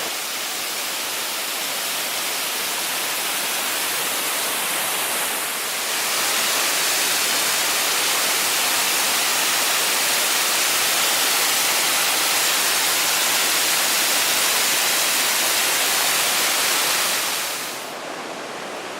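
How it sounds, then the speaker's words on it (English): Waterfall spilling over a rock edge beside a beach, a dense continuous rushing roar that holds steady and loud, briefly dipping near the start and fading toward the end. "the waterfall spilling over the edge there"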